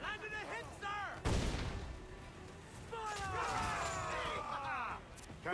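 A ship's cannon fires in the naval combat of the video game Assassin's Creed IV Black Flag. One heavy, booming blast lands among shouted crew voices and a continuous rumble of battle.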